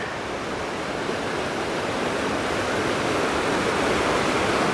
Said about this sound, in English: There is a tiny bit of waterfall here.